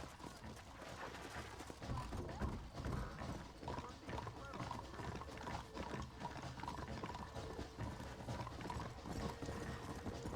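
Rapid clip-clop of horse hooves in Red Dead Redemption, steady and busy, mixed with clanking mechanical sounds and game noise.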